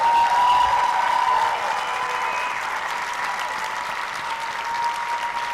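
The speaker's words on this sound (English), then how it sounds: "give her a nice round of applause" Audience applause at a professional seminar session, a dense, steady wash of many hands clapping that stays loud and even throughout, with no talk over it.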